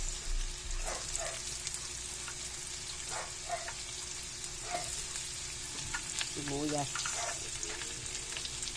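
Garlic and onion sautéing in a pan for lumpia togue, a continuous moderate sizzle with occasional stirring clatter, close up and fairly quiet.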